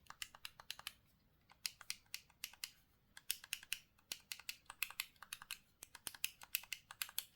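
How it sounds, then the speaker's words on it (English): Rapid, close clicks of buttons pressed on a handheld retro game console, sharp taps coming in quick irregular bursts with short gaps between them. "you've got this one guys, which is quite clicky and some people just don't like it"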